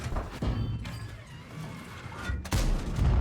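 Heavy booming tank cannon shots in World of Tanks, from an Italian Vipera tank destroyer, one near the start and another loud impact later, over a rumbling battle background.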